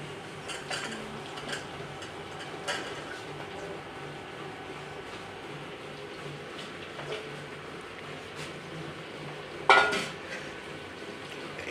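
A spoon stirs sliced okra sabzi with fried onion in a pan, producing faint scraping and a low sizzle, with a sharp clink of metal near the end.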